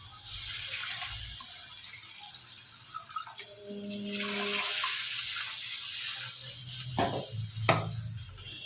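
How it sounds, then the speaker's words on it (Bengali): Besan batter mixed with water is poured into a frying spice curry, a running watery splash over steady sizzling, with a couple of sharp clinks near the end. "এবার আমি যে বেসন জলটা গুলেছিলাম সেটাই দিয়ে দেবো"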